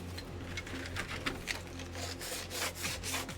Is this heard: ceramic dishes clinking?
no